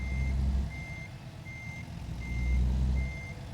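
A truck's reversing alarm in a trucking video game: a steady series of faint, evenly spaced beeps over a low rumbling engine, about five beeps in all, with no talking.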